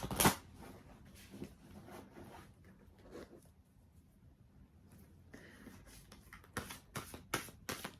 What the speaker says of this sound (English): These are quite big cards, and I've got really small hands. So I find it quite hard to shuffle.